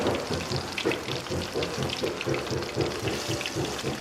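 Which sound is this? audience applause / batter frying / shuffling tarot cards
batter frying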